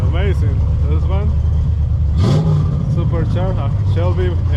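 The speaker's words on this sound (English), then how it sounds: "Supercharged Shelby engine." Supercharged Shelby car engine at a Houston Cars & Coffee meet, a steady loud idle with one brief rev that rises and settles, heard under crowd chatter and nearby talking.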